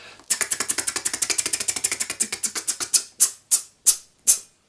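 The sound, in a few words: beatbox hi-hat imitation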